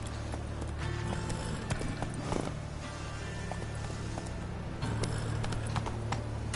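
Hoofbeats of Roach the horse in The Witcher 3, a steady rhythmic clip-clop of a mount on the move, heard under game ambience and a low background drone.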